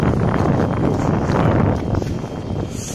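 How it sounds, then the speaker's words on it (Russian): A cold wind blows outdoors, buffeting the microphone with a loud, steady rumble and rustle that eases slightly toward the end. "на улице какой-то ветер холодный поднялся"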